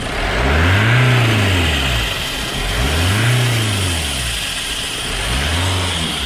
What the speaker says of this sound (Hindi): तो जो एक्सलेट करने पे अलग ही एक नॉइज आ रही है आगे से